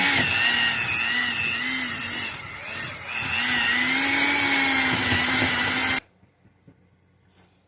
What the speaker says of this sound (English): After I get done mixing everything with the mixer